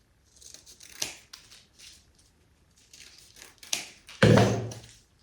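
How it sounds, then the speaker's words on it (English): Scissors snip through the paper seams of a homemade New Year's party decoration in a string of close, crisp cuts, several light snips and then a louder, longer crunching cut near the end. "take the scissors and about 1/3 of the way up, cut through the seams"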